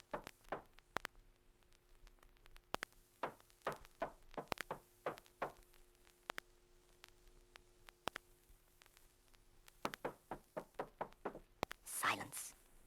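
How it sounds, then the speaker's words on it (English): Three firm knocks on a castle door ring out among a series of sharp wooden raps, close and distinct against a quiet background, with soft voices and a rustling burst near the end. "Noddy knocked 3 times"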